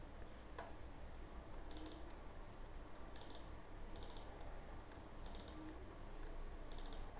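Steady typing on a computer keyboard, with bursts of crisp key clicks over a constant low hum and room noise, fairly faint and without speech.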